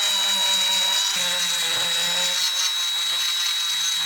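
A Parkside PMGS 12 D4 engraving tool grinds into wood with a loud, steady high-pitched whine and rough abrasive rasp, holding on continuously with slight shifts in load.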